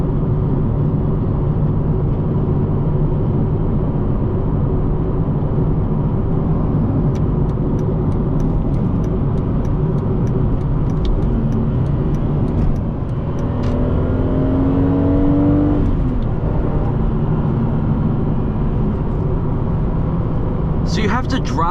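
A 2007 BMW Z4 M Coupe driving from the cockpit, its engine droning steadily and loudly, then a rising rev sweep as it accelerates near the middle, with a brief sharp sound at the end; a voice talks over parts of it.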